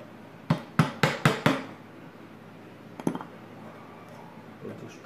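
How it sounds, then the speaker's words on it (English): Pins being hammered into the head of a small ipe wooden mallet: five sharp, evenly spaced strikes at close range, a pause, then a few lighter taps and a faint knock near the end. "I'm just gonna pound those down there until they don't want to go anymore"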